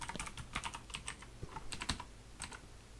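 Rapid, close computer keyboard typing in short clustered bursts of sharp key clicks, entering code for a Unity game project, with no talking.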